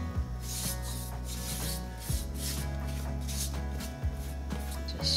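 Antiquing wax rubbed onto a painted lid with a steady, close scraping and swishing, repeating in strokes roughly every two seconds, with no talk.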